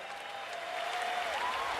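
Crowd applause at an IPL cricket match between Chennai Super Kings and Mumbai Indians, a steady wash of distant clapping from a stadium crowd, fairly faint and continuous.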